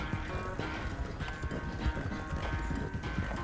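A horse in Red Dead Redemption 2 gallops steadily, its hooves drumming in a fast, even rhythm, loud and close, with no voices over it.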